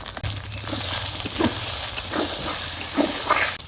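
Ground spices with turmeric and salt frying in a pan for village-style khichuri, giving a steady, close hiss with faint crackling and a few soft scraping knocks throughout.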